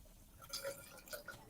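A drink is poured into a glass close by, giving a short, faint trickle with a few splashy drips and no voices.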